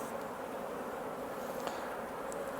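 A steady, dense buzzing of many honey bees close by during a late July hive inspection, continuous and even throughout, with no voices.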